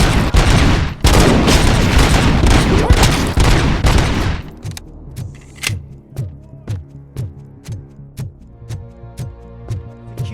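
Gunfire in the game Robocop: Rogue City, starting as a dense, loud burst of rapid shots, then thinning into evenly spaced single heavy shots with a low hum beneath.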